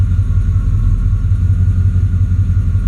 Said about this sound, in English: It's like the engine's being lugged down.